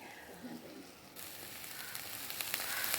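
Ivy gourd cooks for a thoran in a pan over a low flame, giving a soft, faint sizzle that grows slightly brighter and denser partway through.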